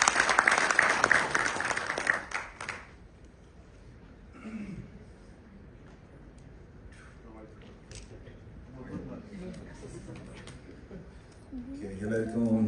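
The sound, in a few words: applause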